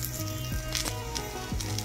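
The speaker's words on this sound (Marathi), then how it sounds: "खमंग असं थालीपीठ आपलं इथं भाजून घ्यायचं आहे आपल्याला" Thalipeeth roasts in oil on a pan with a soft, continuous sizzle close by, under quiet background music and with a couple of faint scraping knocks.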